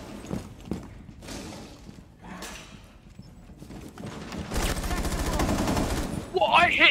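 Gunfire in the video game Rainbow Six Siege: scattered shots and then a dense, loud burst of rapid automatic fire near the end, mixed with game effects and players' chatter.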